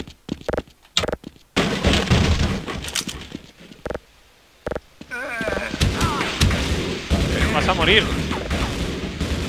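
Gunfire and explosive blasts from weapons fired at alien creatures in the Half-Life video game, loud bursts and booms repeating over several seconds while someone shouts excitedly over them.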